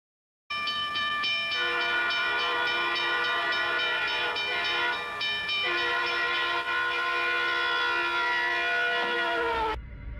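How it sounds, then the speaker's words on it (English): A loud, sustained multi-tone train horn blares in long repeated blasts, with the steady rumble beneath of a Burlington Northern commuter train, an EMD E9 diesel locomotive, approaching at about 60 mph. "It was a Burlington Northern commuter train, an EMD E9 diesel locomotive, approaching at roughly 60 miles per hour."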